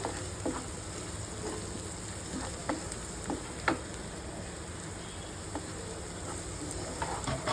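Spices frying in oil for an egg tomato curry make a soft, steady sizzle with faint scattered pops and light stirring ticks, heard alone at moderate distance.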